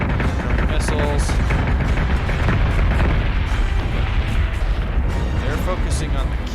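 Missile fire in the space combat game Battlestar Galactica Deadlock: a loud, continuous barrage of booming launches and blasts, dense and unbroken throughout.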